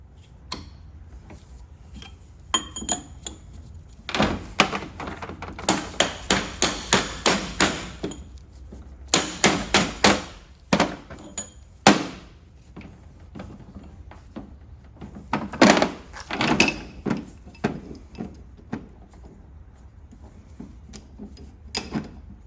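A hammer taps a part onto a steering rack during a rebuild, making bursts of sharp metallic knocks in quick runs separated by pauses, close and fairly quiet, with no talk.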